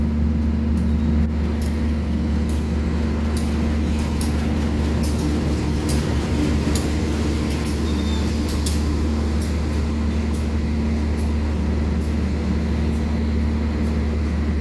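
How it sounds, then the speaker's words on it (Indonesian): A Bandung Raya commuter train pulls into platform 4 at a station, giving a steady, droning engine hum with faint metallic clicks and rattles overhead, continuous and fairly loud, with no talking. "Wah, komuter Bandung Raya. Lo masuknya jalur 4."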